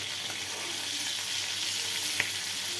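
Malvani-style chicken frying in a hot pan, a steady dense sizzle throughout with one brief sharper crackle near the end as the pieces are flipped; no talking.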